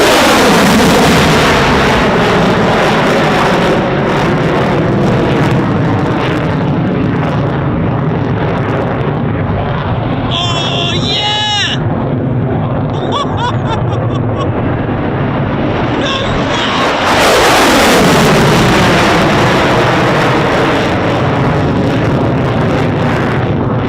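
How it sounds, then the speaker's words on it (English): Two F-35 fighter jets take off and climb steeply at very low altitude, a huge roaring, crackling jet blast that fills the air continuously, briefly dips, then surges back loud as the second jet passes close overhead. "These two F-35s were cleared to make unrestricted climbs, meaning they will climb very quickly after clearing the runway at a very low altitude"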